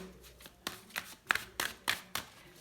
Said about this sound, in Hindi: कुछ ओरेकल लव कार्ड्स निकालूंगी हर महीने के हिसाब से।